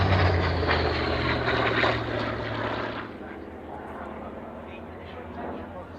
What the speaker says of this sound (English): I just love the sound of the props, you know?